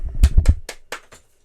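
A person claps their hands five times, sharp and close. The first three claps come quickly and strongly, then two softer, slower ones fade away to quiet.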